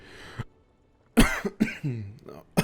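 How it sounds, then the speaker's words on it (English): A few harsh coughs burst out close by after a quiet moment, some raspy and throaty, with short gaps between them. "Random cough."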